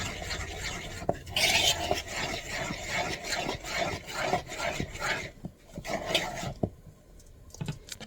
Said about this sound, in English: And then I just take a fork and I mix it.